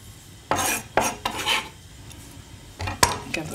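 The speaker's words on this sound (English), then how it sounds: "And then just mix in all our vegetables here." Kohlrabi and apple vegetables are tossed with dressing in a bowl, giving several quick scraping, clattering stirs of utensils against the dish in short bursts, fairly close and quiet, with pauses between.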